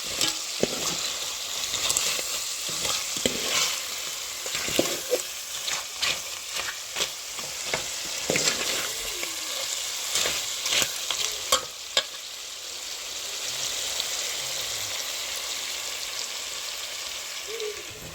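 Crab cooks in oil in a pan, a soft continuous sizzle punctuated by repeated scraping and tapping from stirring, fairly quiet and close, with no speech.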